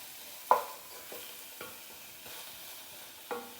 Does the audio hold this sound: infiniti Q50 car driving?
no